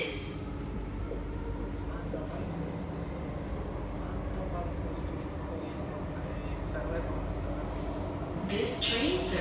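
An SMRT C751B metro train runs on Singapore's East West Line toward Pasir Ris, with a steady, close interior rumble and hiss throughout and voices speaking over it.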